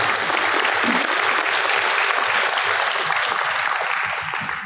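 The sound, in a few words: audience applause for students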